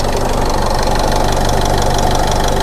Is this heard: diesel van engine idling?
yes